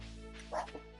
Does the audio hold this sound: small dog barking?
yes